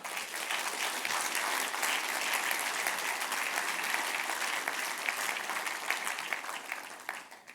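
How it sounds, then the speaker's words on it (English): A conference audience at an epilepsy awareness event breaks into a long, loud round of applause, dense and steady clapping that holds for several seconds before fading at the end. "that deserves a huge round of applause."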